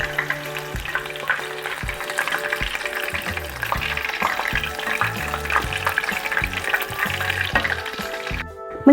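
Homemade KFC-style chicken frying in hot oil, a steady crackling sizzle with irregular pops and stirring clatter throughout, moderately loud and close, no voices.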